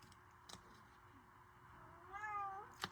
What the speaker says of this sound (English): I'm going to have to let my cat out.